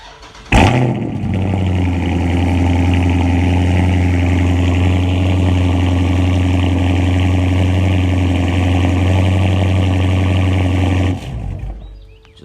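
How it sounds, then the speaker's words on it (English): A Dodge Charger Scat Pack with a mid muffler delete cold starts with a sharp crank and bark, then settles into a loud, deep, steady idle rumble that cuts off abruptly near the end. "here's a cold start with the mid muffler delete"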